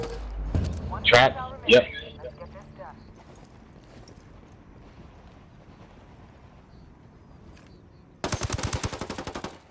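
Gunfire in a shooter video game: a couple of sharp, loud shots near the start, then a quiet stretch, and a rapid automatic burst of close, hard shots at the end. Players talk briefly over the game sounds.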